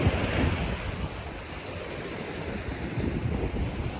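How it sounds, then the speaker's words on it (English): Waves churn and splash nearby under gusting wind that buffets the microphone, giving a rough, continuous roar of choppy water. "What is going on with all this wave? The water look kind of choppy."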